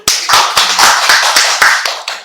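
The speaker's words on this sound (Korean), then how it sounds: "박수 한번 쳐주세요" A short burst of applause from a church congregation during a sermon, a few people clapping in quick rhythm for about two seconds, close and fairly loud.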